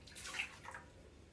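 Milk is poured into a bread machine pan, a soft, faint, steady liquid trickle heard alone at low volume.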